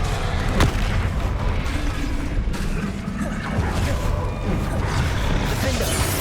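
The Expelliarmus spell is cast in the Hogwarts Legacy video game, a loud, dense magical blast with booming impacts over continuous battle noise and a shouted incantation.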